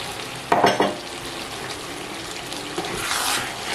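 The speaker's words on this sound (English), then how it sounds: "I'll stir that together completely, and I'll allow it to fry for the next 2 minutes" Fried meat being stirred into a sizzling Nigerian ayamase stew, a steady frying hiss with a brief burst of spoon scraping and clatter early on.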